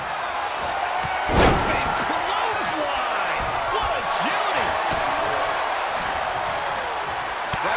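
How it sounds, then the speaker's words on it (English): A heavy body-slam impact lands early as a wrestler is hit with an atomic drop in a steel cage match in WWE 2K23, Jey Uso against Dominik Mysterio, one loud thud over a steady crowd roar with commentary running throughout. "Big time atomic drop."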